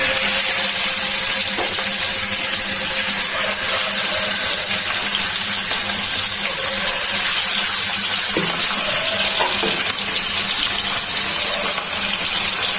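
Pieces of bata fish sizzle in hot oil in a pan, a dense, bright, steady crackle up close, with a few soft clinks and stirring touches over the hiss.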